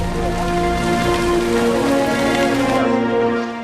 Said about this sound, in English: There was constant tropical rain.